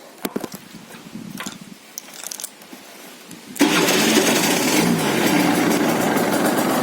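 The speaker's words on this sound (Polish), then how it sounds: "Kolejna rzecz, jak ten motocykl pracuje, to znaczy, jeżeli sobie przekręci, przekręcać kluczyk" A motorcycle with a clutch problem that keeps it from finding neutral: a few soft clicks as the key turns, then the engine suddenly starts about halfway through and idles loudly and steadily up close.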